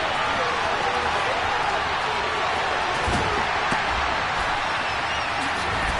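A dense, roaring stadium crowd cheering a big play in the video game Madden NFL 23, steady and loud with scattered claps and thumps, commentary voices running over it.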